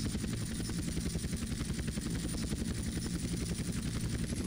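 Helicopter engine in the video game GTA San Andreas, a steady, loud rotor-and-turbine drone with rapid pulsing blade chop running throughout without pause.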